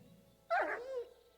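A pet dog in the medieval role-playing game Kingdom Come Deliverance 2 lets out a single short whimpering yelp that bends downward, fairly close and clear against a quiet background, with no speech.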